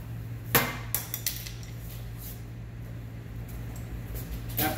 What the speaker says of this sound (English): after dropping my screwdriver on the floor